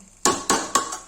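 A metal lid clanks down onto a cooking pot of mutton with onion, red chilli, turmeric, mutton masala and tomato, giving three sharp, ringing knocks in quick succession, close by and with no talk.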